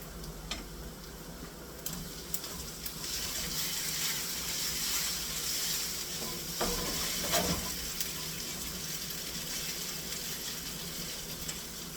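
Pork browning in a pan with garlic sauce, a soft steady sizzle with occasional scraping and ticking clicks from stirring, fairly faint and close.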